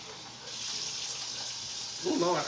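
Tap water runs steadily into a kitchen sink as a bag is rinsed out, a close, continuous hiss and splash, with a voice briefly cutting in near the end.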